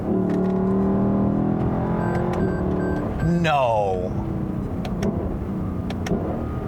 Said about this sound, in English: Listen to the way that engine sounds.